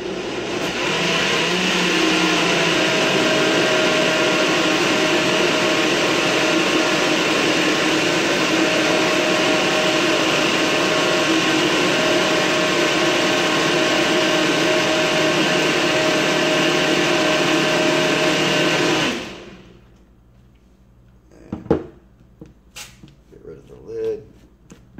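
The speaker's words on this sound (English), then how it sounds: "So put this thing in the NutriBullet." A NutriBullet blender whirs steadily and loudly as it blends eggs, strawberries, peanut butter and oatmeal, running continuously for about nineteen seconds before cutting off to quiet clatter.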